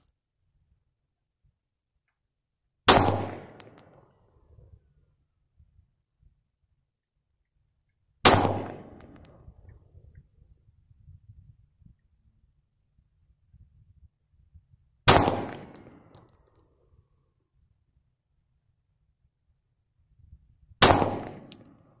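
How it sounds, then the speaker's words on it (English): Four single pistol shots from a Walther PPS firing reloaded 9mm ammunition, each a sharp, loud crack with a short decaying ring, spaced about six seconds apart with near silence between. "Now I'll be testing them out of the Walther PPS, my reloaded ammunition."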